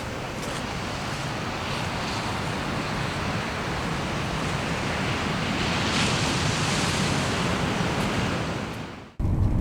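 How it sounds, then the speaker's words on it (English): Ocean waves roll onto a shore in a steady, loud broadband wash that swells toward the end before cutting off abruptly, with no voices. "You can hear the waves starting rolling here."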